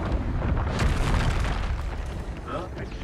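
Repeated Expulso spell blasts in the Hogwarts Legacy video game, deep booming explosions rumbling one after another with heavy low-end bursts, loud and close, with a voice speaking over them.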